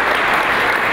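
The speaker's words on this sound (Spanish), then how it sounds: "Fuerte el aplauso, por favor." Loud, dense applause from a congress audience honoring a speaker, a brief sustained burst of many hands clapping together.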